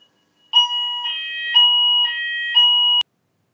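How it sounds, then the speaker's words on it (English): A regular building fire alarm sounds in a meeting room, a loud two-tone electronic beeping that pulses in five even bursts over about two and a half seconds, then stops abruptly. "it was a regular fire alarm"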